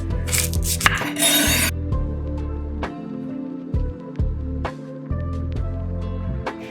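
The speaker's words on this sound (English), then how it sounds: "I'm just going to finely dice the onion, get that frying, and then I will just roughly chop the vegetables" A knife chops onion and vegetables on a cutting board in a kitchen, giving a run of crisp, close knocks at an uneven pace after a brief rustle of handling at the start, with a low steady hum underneath.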